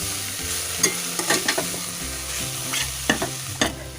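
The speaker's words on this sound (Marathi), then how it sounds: "याची कोथिंबीर आपण मिक्स करून घेऊया" A spoon stirs chopped coriander into a mixture for kothimbir wadi, with scraping strokes and soft clinks against the pan repeating close by, no voices.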